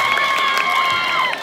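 An audience at a school intramurals event cheers and applauds, a continuous crowd roar with children shouting and some shrill high-pitched calls.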